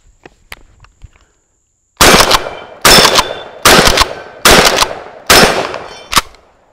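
A Mossberg 410 pump shotgun fires Federal Top Gun half-ounce 7.5 shot loads, five loud sharp reports spaced about a second apart, after faint handling clicks, with a sixth shorter blast at the end.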